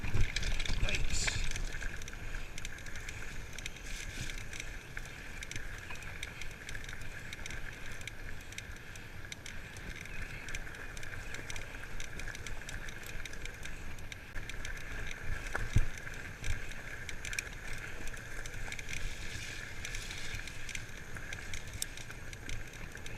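A fat-tire bicycle rolling over rough, corrugated gravel along the D&R Canal path, a steady close rumble and rattle with wind buffeting the microphone throughout.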